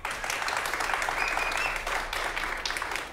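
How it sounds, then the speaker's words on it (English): Steady applause from an improv comedy audience voting on a performer's movie, dense continuous clapping filling the room at an even level throughout. "If you'd like to see Greg's movie, please applaud now."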